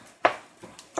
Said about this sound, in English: with our spatula, kind of chopping it up a little bit so that it ends up to be nice, small